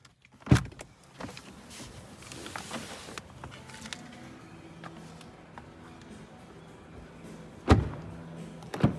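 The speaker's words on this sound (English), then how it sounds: "Really nice door close sound." Car door of a 2024 Audi RS6 Avant Performance wagon shutting with a solid, deep thud, heard twice, once near the start and again near the end, with quiet handling and interior sounds in between.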